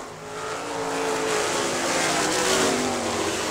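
Race cars at a Great Lakes Thunder event roar past in a dense, loud wash of engine noise, several machines blending into one sustained howl with no talk.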